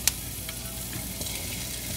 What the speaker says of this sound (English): we're going to saute this for about 2 to 3 minutes